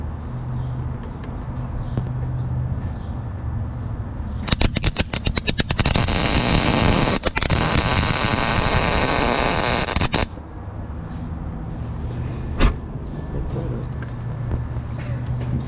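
Welding onto an outboard motor's tilt tube, a loud harsh crackling buzz lasting about six seconds amid a steady background hum, then stopping abruptly.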